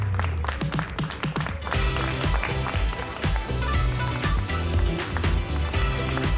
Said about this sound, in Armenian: Կարմենին Ղազարյան շատ բարձր ծափահարենք